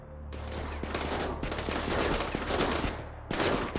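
Gunfire from RimWorld plays as a dense, continuous fusillade, loud and sustained for several seconds, with rapid overlapping shots and a fresh burst at the end.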